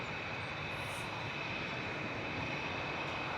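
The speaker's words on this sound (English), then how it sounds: "The A380 is now passed over Stockport." An Airbus A380 drones steadily overhead near Manchester Airport over Stockport, a faint, continuous broadband rumble heard from a distance with no voices.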